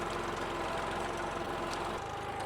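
Tractor engine idling steadily at close range, a continuous low rumble with a faint rhythmic knock and vibration, no voices over it.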